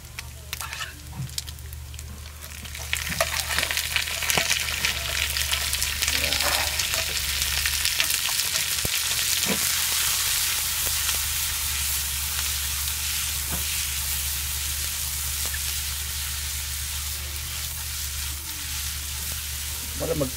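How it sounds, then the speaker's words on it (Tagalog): Garlic frying in a pan for Ilokano dinuguan, a steady, close crackling sizzle that runs through the whole stretch with occasional stirring scrapes and a low background hum. "Brown na yung bawang. Oh, brown na yung bawang natin."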